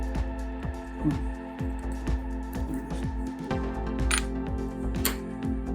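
A part being screwed onto a vintage Nikon 105mm f/1.8 lens gives a run of small, regular mechanical clicks and ticks over a steady low hum, close up with no talking.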